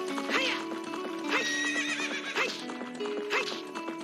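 Epona, the horse in the Zelda Ocarina of Time video game, lets out repeated whinnies and snorts in a rhythmic pattern over game music, with hoof-like clip-clop accents, at a moderate level.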